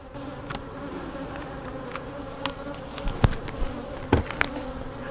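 Honey bees hum in a steady, close buzz from an open Apimaye nuc hive as frames are shifted, with a few soft knocks and scrapes of wood over the constant drone.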